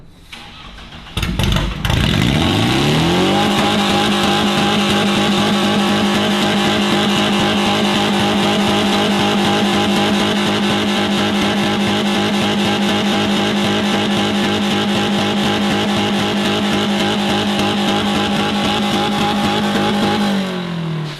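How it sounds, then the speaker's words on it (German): A car engine in a workshop cranks and catches, then settles into a loud, steady drone held at roughly half throttle for about twenty seconds before easing off at the end. "Wir stellen das Auto jetzt an."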